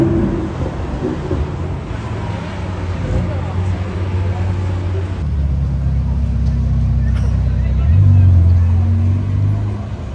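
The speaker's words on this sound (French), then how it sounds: "Et une GTR R35 pour les fans." A Nissan GT-R R35 sports car passes on the streets of Monaco during the 2023 Grand Prix weekend, its steady engine drone swelling louder toward the end amid crowd and traffic noise.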